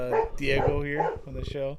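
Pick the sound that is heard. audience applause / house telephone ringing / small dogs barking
small dogs barking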